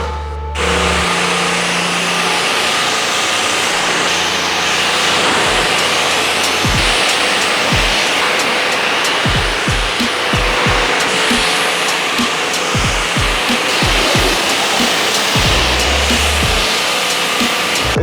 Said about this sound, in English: Now we're gonna rinse off the soap and the tires.